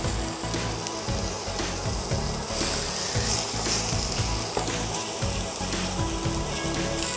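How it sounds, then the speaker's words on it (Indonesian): Spices for sambal goreng daging sizzle steadily in a hot pan, a dense, continuous frying hiss without breaks, close and fairly loud. "Ini kita tumis dulu sampai harum semuanya."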